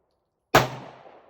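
A single sharp pistol gunshot fired at a range, close and loud after near silence, with a short decaying echo tail.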